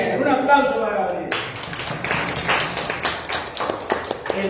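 A short burst of audience applause for a student during a neuroscience talk, following a moment of speech and then carrying on as loose, irregular claps to the end.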